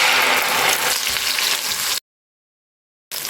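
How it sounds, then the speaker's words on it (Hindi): Onion paste fries in oil in a pan, sizzling and crackling steadily, loud and close, then cuts off abruptly into silence before resuming briefly. "अब इसमें मैं डाल दूँगी प्याज का पेस्ट।"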